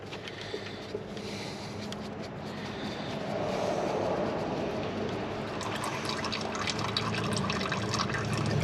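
Water drains out in a shop as a steady, continuous rushing flow at moderate distance, growing slightly fuller partway through, with no talking over it.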